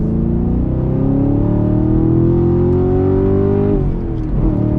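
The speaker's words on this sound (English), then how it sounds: "downshift into this turn here, on throttle" A 2020 Chevy Camaro SS V8 heard from inside the cabin, its engine droning loud and steady as revs climb on throttle, then a quick downshift blip and pickup again near the end.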